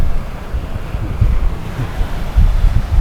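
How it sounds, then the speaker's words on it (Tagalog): Waves lap on a beach shore with low, rumbling surges rising and falling, heavily mixed with gusty wind buffeting the microphone, close and fairly loud, with no talking. "pagaspas ng alon yan sa dalampasigan"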